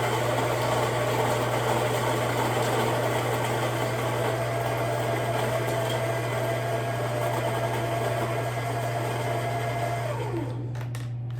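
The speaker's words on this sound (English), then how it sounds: "I'm going to grind that on the finer side of things. On my Barazza Virtuoso, I have the setting at 12" Baratza Virtuoso burr grinder grinding coffee at a fine setting, a loud steady motor whine with crunching beans that runs nearly continuously, then winds down and stops at the end.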